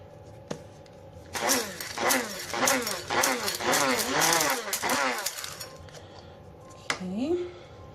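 A small grinder buzzes through a homemade incense blend in a few seconds of pulsing, rattling whir close by, then stops; a voice briefly follows.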